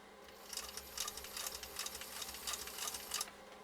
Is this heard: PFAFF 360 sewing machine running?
yes